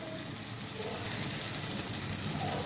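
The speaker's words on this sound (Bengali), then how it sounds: "এই সময় আমি মাশরুমগুলো দিয়ে দেবো এর মধ্যে" Mushrooms fry in hot oil and cooked masala for a Bengali mushroom masala, a soft, even sizzle with a faint crackle and no talk throughout.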